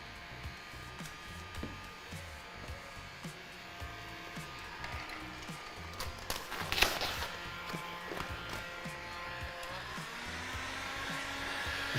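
Heat gun blowing steadily while warming vinyl wrap on a commercial vehicle, a faint continuous airflow whir under soft handling noises and occasional taps, with a brief louder rustle midway.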